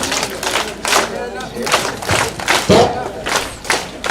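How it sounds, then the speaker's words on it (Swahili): Parents in an audience at a school graduation ceremony clap together in loud bursts of rhythmic applause, mixed with cheering voices. "tutengeneze makofi wazazi 1 2 3"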